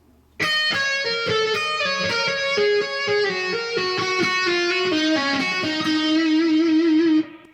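A slow electric guitar phrase played alone, a lick from a rock song, with clear sustained notes stepping through, bending and settling on a long held final note.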